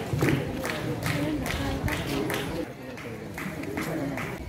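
Schoolchildren clap together at a school farewell day, a dense crowd patter of many hands with periodic louder swells, mixed with chatter and voices throughout.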